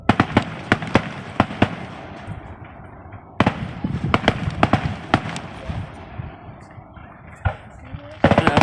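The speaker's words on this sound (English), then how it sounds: "Fireworks on this side and lightning on the other side." Fireworks bursting as sharp, loud cracks and pops in scattered bursts, several in quick runs with quieter gaps between, over a low background rumble; no talk.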